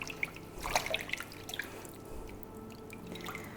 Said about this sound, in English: the first thing I do is I wash the flowers